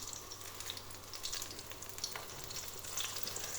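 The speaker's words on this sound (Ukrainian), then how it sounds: "потім муку, яйце, сир, спеції збиваємо обмакуємо і жаримо на олійці" Pieces dipped in a batter of flour, egg, cheese and spices fry in oil, giving a faint, continuous crackling sizzle with scattered light pops and an occasional soft scrape, alone without speech.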